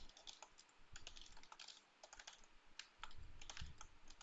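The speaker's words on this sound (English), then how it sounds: "Oh my god, I hate this keyboard." Rapid, uneven keystrokes on a computer keyboard carry through the whole stretch with a steady clatter and occasional heavier presses, close and fairly quiet, with no talking.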